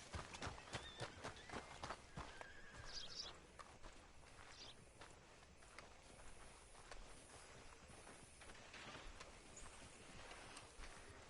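Horses in the Red Dead video game running through a town, a continuous rhythmic drum of hooves over the whole stretch, steady and moderately close, with faint birds and ambient game sounds behind.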